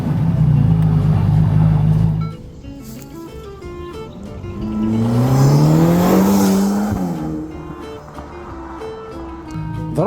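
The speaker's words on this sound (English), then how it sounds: "the exhaust note is simply glorious." A 2024 Ferrari Roma Spider soft-top roars loudly, its exhaust note rising and falling through rev swells, with a drop to a quieter idle-like stretch in the middle before surging again.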